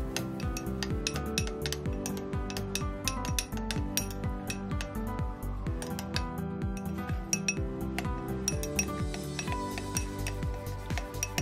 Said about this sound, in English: Give both ingredients a good stir.